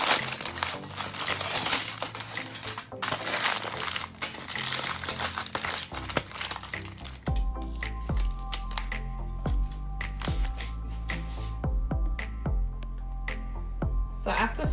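Aluminium foil crinkles and crumples while wrapping a stuffed red snapper, with dense rustling in the first half, then sparser crackles and taps over a low hum.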